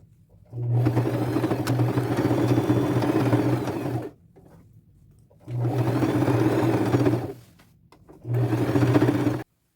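A sewing machine runs straight stitching around patchwork pieces on jeans, in three steady whirring bursts of a few seconds each, separated by short pauses, close and fairly loud with no talk.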